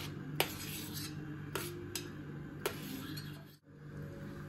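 Small chopped mango pieces spooned into a glass for a mango shake give three faint, sharp clinks against the glass, with a quiet rubbing scrape between them.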